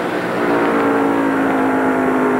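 Sterling Marlin's NASCAR stock car roars past at the 1993 Champion Spark Plug 500, a loud, steady engine drone with a brief rising pitch as it goes by.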